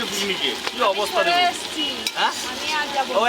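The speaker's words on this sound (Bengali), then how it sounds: "এবার চিংড়ি মাছগুলো ভেজে নেবো" Prawns fry in a pan for a picnic meal, crackling and sizzling up close while voices talk over the cooking.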